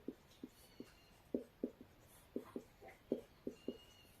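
A pen or marker writes out a chemical structure for N-butane isomers in a series of short, distinct taps and strokes at a steady, irregular rhythm, fairly faint and close, with no talking.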